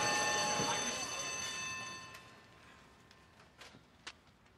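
Several telephones ring at once on a brokerage trading floor during the Black Monday stock market crash, a loud, steady, tonal clamor that fades over a couple of seconds, leaving faint room noise with a few brief clicks.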